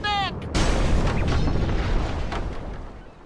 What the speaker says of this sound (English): They're just now concerned about cannon fire.